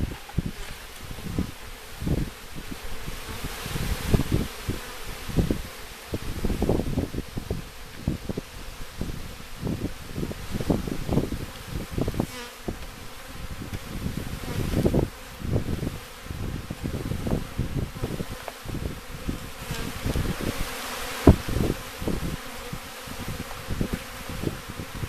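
Honeybees buzzing after being shaken from a package into a hive, a dense swarm hum with bursts of louder buzzing and knocks, close and moderately loud, no talk.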